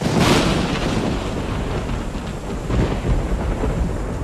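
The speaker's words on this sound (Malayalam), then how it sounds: "ഓ, നല്ല എമണ്ടൻ ഇടിയും പിന്നിലോ" Loud thunder rolls through steady rain, a heavy broadband rumble that peaks early and then swells again before fading into the downpour.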